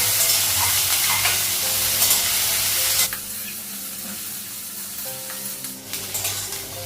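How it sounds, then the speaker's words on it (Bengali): Potatoes and onions sizzle loudly in hot oil with a steady, close hiss, easing slightly midway as stirring sounds come through. "একটু ভেজে নেবো আলু আর পেঁয়াজটা"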